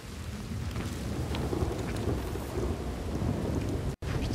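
Thunderstorm in the open-world video game Red Dead Redemption 2, with steady heavy rain and deep rolling thunder filling the scene at a constant loud level, broken by a brief dropout near the end.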